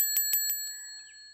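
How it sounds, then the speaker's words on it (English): A bright bicycle-style bell gives four quick rings in a row, then its ringing tone lingers and fades out. "That's the original bell ring."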